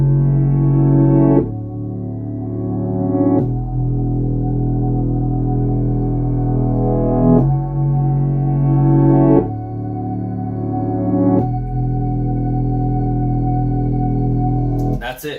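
A slow, looping hip-hop beat made with Logic's built-in instruments, with a deep sustained bass and mellow layered tones, shifting every couple of seconds in a steady repeating pattern.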